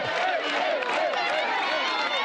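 Trackside spectators at the Zegama-Aizkorri mountain trail race cheer and shout steadily for passing runners, a dense, lively crowd roar with whoops rising above it, close by and sustained.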